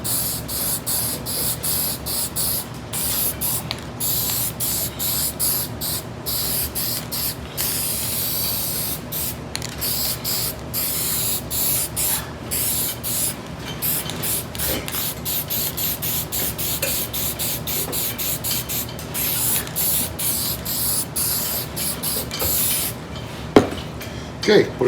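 A spray can with a replacement nozzle blasts primer onto a part being restored, a loud hissing spray coming in repeated bursts separated by short pauses, with a sharp knock near the end.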